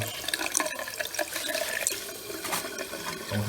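Water rinses through canister filter media under a running tap, washing out ash. The splashing and gushing are continuous and close, with uneven surges and nobody speaking.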